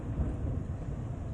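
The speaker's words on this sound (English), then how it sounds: "But I guess it's thunder. Yeah, thunder in Taiwan." Thunder rumbling during a rainstorm in Taiwan, a steady low rolling roar holding through the whole short stretch with rain hiss above it, moderately loud and with no voices.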